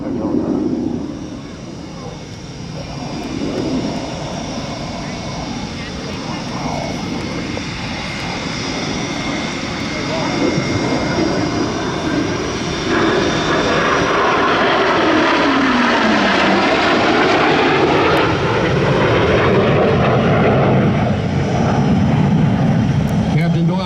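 Blue Angels jets in a three-plane formation thunder overhead at an air show at NAS Pensacola, a sustained loud roar that swells and shifts in pitch as they pass, with voices faintly beneath.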